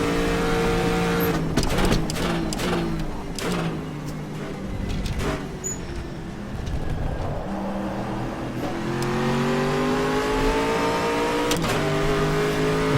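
Enduracers GT race car in a racing game at Le Mans, its engine wailing high near the rev limit, several sharp upshifts early, then a steady rising drone as it pulls through the gears, loud and close, with no voices.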